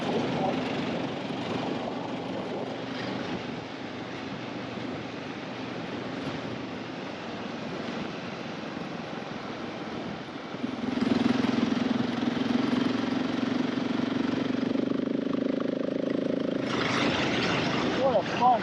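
A 2020 Husqvarna 701 Enduro LR single-cylinder motorcycle idles steadily nearby with a low throbbing rumble, then its engine note grows louder and rougher partway through and holds there, with a voice speaking over it.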